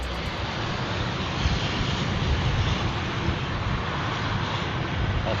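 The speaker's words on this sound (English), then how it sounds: "The 787 landing at Heathrow tried to land in a storm but had to do a touch and go after a failed" A Boeing 787 attempting a landing at Heathrow in a storm produces a steady, moderately loud jet engine roar mixed with wind, with no talk.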